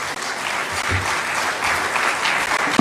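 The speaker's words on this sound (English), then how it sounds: "A warm clap for His Excellency the Deputy President" Warm applause for the Deputy President at a government meeting, a steady crowd of clapping hands that continues without a break for about three seconds.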